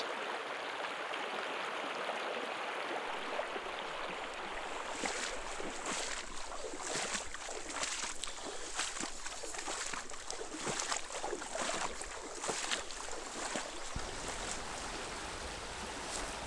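Shallow desert river water rushes and splashes steadily nearby during a hike, with broadband wash throughout and uneven sloshing from about five seconds on, as if feet are wading through the flow.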